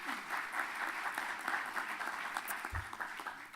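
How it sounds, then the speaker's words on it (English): An audience at a healthcare conference gives a steady round of applause for a panel, fairly faint and distant, with no speech over it. "Let's give our panel a big round of applause"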